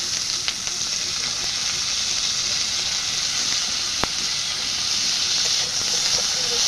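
Steady, loud sizzling of onion and green chili frying in hot oil, a continuous hiss with a few faint clinks, no voices.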